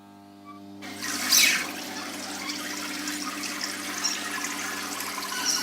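A small pump in a homemade all-grain beer brewing machine switches on and keeps up a steady watery rush of circulating liquid, close and continuous, with a faint motor hum beneath.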